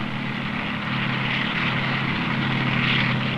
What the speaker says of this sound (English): the helicopter dropped us near a boat landing